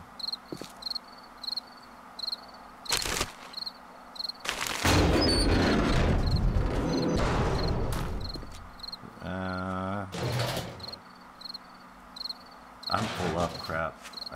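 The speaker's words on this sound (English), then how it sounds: "at 1900, it becomes nighttime, or makes that chirping noise from the crickets" Nightfall crickets in 7 Days to Die (Alpha 19), a steady high chirp pulsing in regular rhythm, briefly swamped by a loud burst of roaring noise and a pitched rattling sound before the chirping carries on alone.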